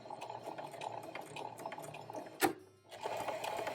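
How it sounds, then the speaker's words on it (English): A sewing machine stitches fabric for a beginner scrunchie, humming in a close, even run of rapid needle strokes. It pauses briefly with a sharp click to reverse into a backstitch, then the motor picks up again. "Roll a couple of stitches and we'll back stitch for a little bit."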